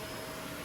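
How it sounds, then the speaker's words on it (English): A vacuum cleaner runs across the floor, a steady, loud broadband whoosh with no break and no voices. "You can probably hear the vacuum."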